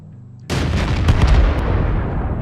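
A single loud, booming tank cannon shot in World of Tanks breaks sharply from near quiet, followed by a rumbling, slowly fading tail.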